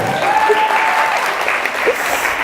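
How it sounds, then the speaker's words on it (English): An audience at a live comedy-style show claps loudly and steadily throughout, with a few faint voices and brief whoops mixed into the applause. "Make a round of applause for Becky."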